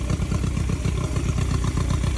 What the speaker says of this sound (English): Like, I love the sound of a vertical twin with a 2-into-1.